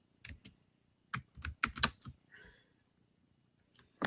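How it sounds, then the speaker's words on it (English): Fingers type on a computer keyboard in a few quick clustered keystroke bursts separated by pauses, close and crisp in a quiet room, with a brief faint murmur between. "I'm typing, y'all."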